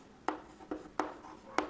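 Four short, scratchy strokes of a pen writing out an English sentence, spaced about half a second apart, close and quiet, with no talk.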